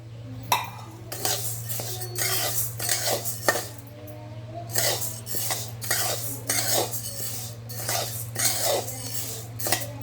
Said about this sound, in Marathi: गहू भाजून घ्यायचे.